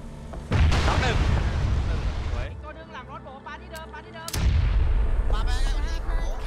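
Gunfire in a battle royale video game, loud bursts of rapid shots that break off and then resume, with players talking excitedly over the fire.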